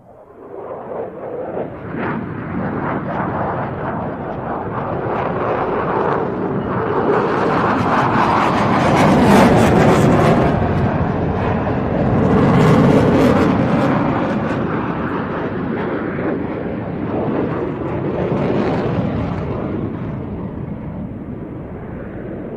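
A Danish F-16 jet fighter flies a solo air display, a loud continuous roar that swells and fades over twenty seconds as the jet passes and turns, with wind buffeting the microphone.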